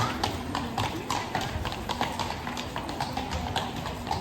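Horse hooves clip-clop in a quick, even rhythm as a horse-drawn carriage passes through a Kraków street, loud and close over steady street noise.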